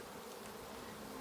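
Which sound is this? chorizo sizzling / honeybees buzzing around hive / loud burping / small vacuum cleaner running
honeybees buzzing around hive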